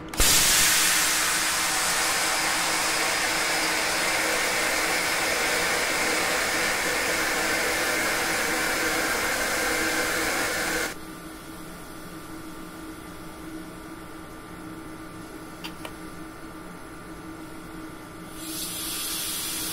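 A train's air brake hisses loudly and continuously during an emergency brake test in a train simulator, a broad rushing blast that cuts off abruptly midway, leaving a low hum with faint clicks before hissing returns.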